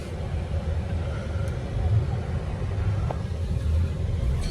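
V6 car engine in a post-apocalyptic driving video game, a continuous low rumble while driving, steady and fairly loud.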